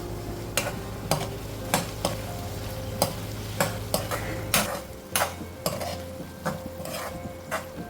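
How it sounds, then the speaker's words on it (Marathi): Utensil stirring pumpkin sabzi with turmeric in a pan, a steady series of sharp scraping clicks against the metal over a soft sizzle, close and alone without talk. "आता ह्यामध्ये घालूया थोडी हळद, घाटून घेऊया एकदा."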